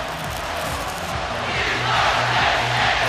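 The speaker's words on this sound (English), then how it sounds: "You can hear the We Are Penn State chant" Stadium crowd in College Football 25 chanting We Are Penn State, a rhythmic mass of voices with call-and-response pulses, distant and building louder, with no clear talk over it.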